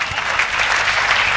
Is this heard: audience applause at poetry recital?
yes